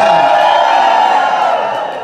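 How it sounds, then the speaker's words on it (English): Crowd at a lumberjack show in Ketchikan, Alaska, cheering and whooping together, a loud, brief burst of massed voices that fades slightly over two seconds. "And there we have it, ladies and gentlemen. Make some noise, Dawson."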